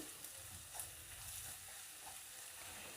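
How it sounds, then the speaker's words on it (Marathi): Ground spices such as turmeric fry in oil over a low flame for a chicken curry, giving a steady, even sizzle throughout with no voices. "हे सगळे मसाले तेलात चांगले परतून घ्यायचे आहेत"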